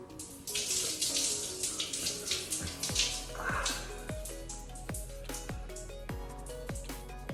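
Frothy cleaning solution, shaken up in a bottle, is poured out in a steady splashing stream during aftercare for an FUE hair transplant, trailing into scattered drips and trickles near the end.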